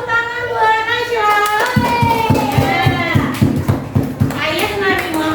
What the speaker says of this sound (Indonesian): tepuk tangan buat Nasya